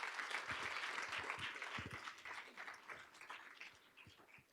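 Applause from attendees at a school board of education meeting, fairly faint and roomy, with scattered clapping that gradually thins and fades toward the end.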